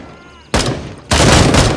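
Two loud, close gunshots in the shooter game Gray Zone Warfare, each a sharp crack with a ringing tail, about half a second apart, after a quieter stretch of background noise.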